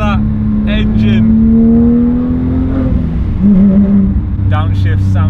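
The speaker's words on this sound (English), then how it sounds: "Just listen to that engine." Porsche 997.2 GT3 engine revving while driving, a loud close-up flat-six drone that rises and holds, with throttle blips near the end and talk over it.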